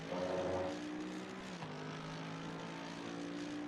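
A Mercedes-AMG GT3 Evo runs at full throttle at Imola in the game Assetto Corsa. Its engine gives a steady, buzzing drone that dips briefly midway as if shifting, then holds a constant pitch. No one talks.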